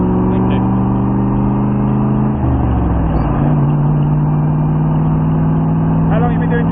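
An AC Cobra's engine roars steadily on a track lap, held around mid revs, a loud continuous drone that drops in pitch partway through before building again.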